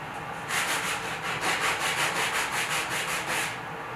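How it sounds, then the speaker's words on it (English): Sanding sponges rub back and forth over a puttied window frame in steady, rhythmic strokes, about a dozen close, loud passes in a row with no talking. "We got some new sanding sponges."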